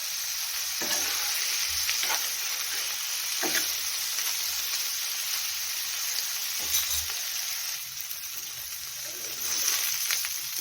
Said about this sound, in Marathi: तर अशा प्रकारे छान आपण हे पनीर फ्राय करून घेतलेलं आहे